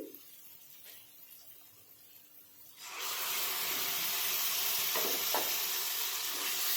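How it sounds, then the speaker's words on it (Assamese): Tomato paste stirred into hot oil with fried onion, ginger and garlic, sizzling loudly and steadily after a quieter start, with a broad hissing fry and occasional scraping stir sounds. "এইখিনিও আকৌ ভালদৰে মিক্স কৰি প্ৰায় 2 মিনিটমান সময় ভাজি ল'ব লাগিব, যাতে বিলাহীৰ পানীটো শুকাই যায়"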